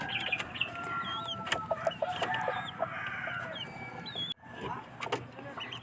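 A flock of chickens in a coop at feeding time clucks busily and overlappingly nearby, with crowing and rustling mixed in.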